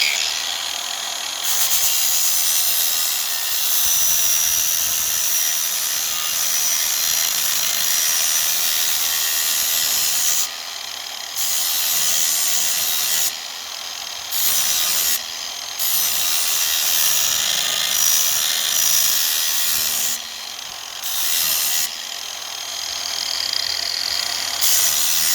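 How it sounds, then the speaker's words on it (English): An angle grinder sharpens a lawn mower blade up close, giving a long harsh hissing grind in sustained passes broken by several short pauses as the tool lifts off the steel. "We want to get in there with the grinder, and we want to do it as smoothly as we can."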